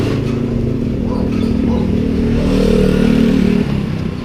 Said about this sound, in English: A lot of trike traffic through here.